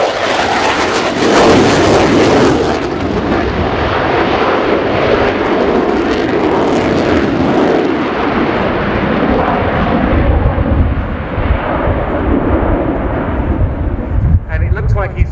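Swiss Air Force F/A-18C Hornet jet flying a display at RIAT 2019, a loud, continuous roaring jet engine sweeping past with a broad rumble, under a commentator's voice throughout.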